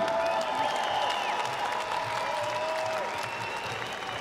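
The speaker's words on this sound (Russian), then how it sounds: "Громкие-громкие бурные овации." A crowd gives a loud, sustained ovation at a martial arts bout, with dense clapping and cheering filling the arena throughout.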